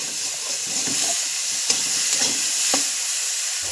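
Spiced long beans and potatoes are stirred in a hot pan, with a steady frying sizzle and hiss under intermittent soft scraping strokes, close and moderately loud, and no talking.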